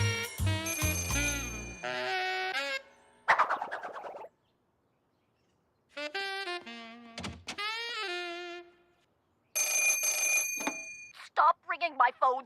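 Cartoon telephones ring in shrill, bell-like bursts that start and stop across the span, with short silent gaps between clusters and a few whistly tones mixed in.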